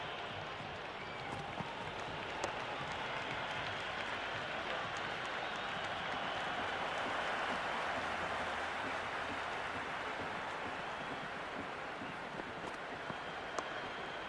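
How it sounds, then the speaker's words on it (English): A stadium crowd roars in the Cricket 26 video game during an IPL match between Mumbai and Hyderabad, a broad, sustained wash of cheering noise that holds steady, with a few faint sharp clicks on top and no clear speech. "It's almost palpable, the excitement emanating from this crowd at the moment."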